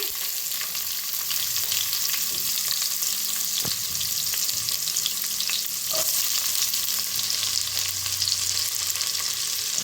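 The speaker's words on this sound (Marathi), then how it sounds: "हिरव्या मिरच्या, 2 हिरव्या मिरच्या कापून घेतल्या होत्या, छान भाजून घेऊया।" Cumin seeds, finely chopped onion and two chopped green chillies frying in hot oil in a pan, a loud, steady close-up sizzle with occasional stirring scrapes and no talking.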